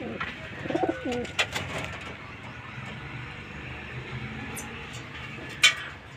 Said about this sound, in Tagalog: Ayan mga ibon natin guys.